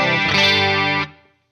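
A Behringer UC200 Ultra Chorus pedal with its chorus level set high colors a single sustained, harmonically rich note that rings loud and steady for about a second, then fades away.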